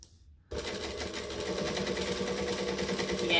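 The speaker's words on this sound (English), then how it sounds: "So again, we're going to stitch, back stitch, and we're off." A sewing machine stitches a tote bag, starting abruptly after a brief quiet moment and then running as a steady, even mechanical whir that stays close and continuous with no talking.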